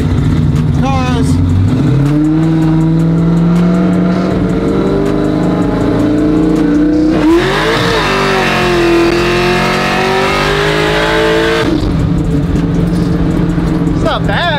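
Truck engine revving hard in a street race against another truck, a loud sustained roar that climbs in pitch, dips, then climbs again before dropping back, with people talking over it.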